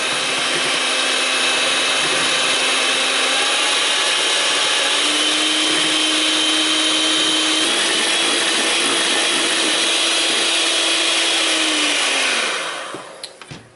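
An electric mixer whips pie filling to soft peaks on medium-high, a loud, steady whirring hum that holds its pitch for about twelve seconds before winding down and stopping.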